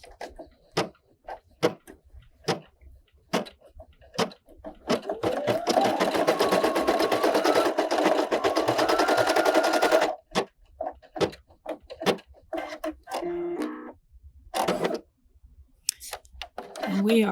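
Brother embroidery machine stitching an apple applique, a fast rhythmic needle chatter running for about five seconds amid sparse ticks and clicks, with brief bursts of stitching later on.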